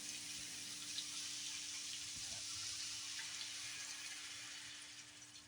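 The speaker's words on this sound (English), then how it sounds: "So to this, we're going to add a little bit of water." Water pours steadily into a pan of fajita meat, a continuous close rushing splash over a faint electrical hum, easing slightly at the end.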